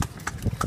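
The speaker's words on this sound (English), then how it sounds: "we're being pulled by a horse at the moment." A small horse clip-clops as it pulls a little carriage on a rural road a couple of hours outside Ho Chi Minh City, its hoofbeats close and quick over road and background noise, with no talk.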